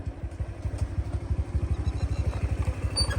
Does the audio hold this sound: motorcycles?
yes